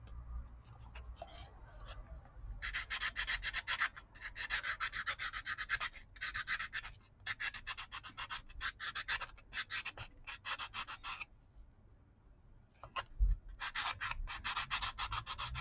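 Cardboard coaster edge being filed by hand in bursts of steady rasping strokes, close and fairly loud, with short pauses between runs.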